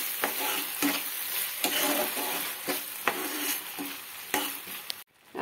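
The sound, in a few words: stirring beaten yogurt into spice masala in pan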